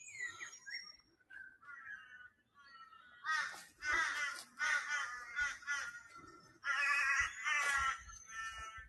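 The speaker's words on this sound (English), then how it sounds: "Those crows are noisy." Crows caw in a eucalyptus and palm forest with ferns. Short, harsh calls come in clustered bursts, some near and some farther off, with quieter bird chirps between them.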